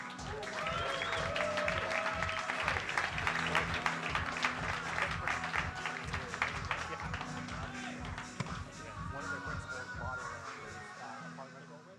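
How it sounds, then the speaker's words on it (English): A crowd at a live investor roast applauds steadily for several seconds while loud rhythmic walk-on music plays underneath, the clapping slowly thinning toward the end. "Another round of applause for Stuart."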